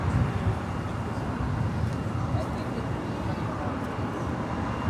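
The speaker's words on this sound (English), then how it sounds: "Lufthansa Flight 452 coming in from Munich, the A350-900" A Lufthansa Airbus A350-900 jet arrives at Los Angeles International Airport. A broad, steady roar of jet noise is heard at a distance and persists at an even level throughout.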